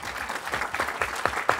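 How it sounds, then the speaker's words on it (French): Brief audience applause at a conference on mental health recovery, a moderately quiet patter of many hands clapping with a few sharper individual claps standing out. "On vous applaudit encore"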